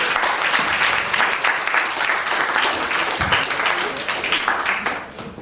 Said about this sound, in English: Can we have another round of applause for Mr.